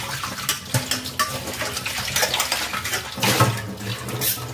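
A cooking pot being washed under a running tap, steady splashing water with clinks of the pot against the sink, close and continuous for several seconds, no talking.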